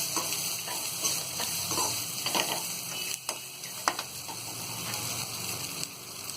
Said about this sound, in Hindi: ये जो हमने मूंगफली और ड्राई फ्रूट फ्राई किया था, ये सारी चीजें अब इसमें डाल देंगे। अच्छी तरह इसे हम मिक्स कर देंगे।